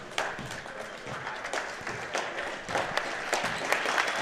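Fans and both benches applauding at the end of a boys' basketball finals game in a gym, a dense, steady patter of clapping from a crowd that swells slightly toward the end.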